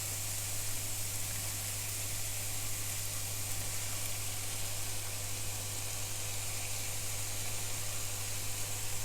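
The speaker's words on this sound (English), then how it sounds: "I'm just going to add in my barbecue sauce." Steady broadband sizzle and hiss from warm jackfruit in a hot pan as barbecue sauce goes in, continuous and fairly close, with a low constant hum underneath and no talking.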